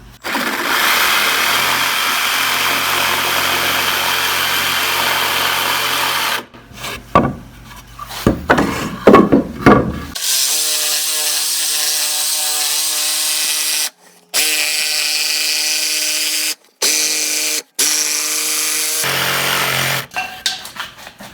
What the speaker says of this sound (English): I'm going to make the first cut here, and then I'm going to make an angled ripping cut there to get that notch